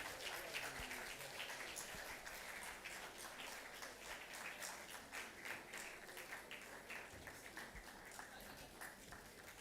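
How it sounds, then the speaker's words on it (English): Audience applause at a university summit on sustainable development goals, a steady, dense patter of many hands clapping that continues unbroken, moderately loud and filling the room without any voices. "Do not stop clapping until he's up here."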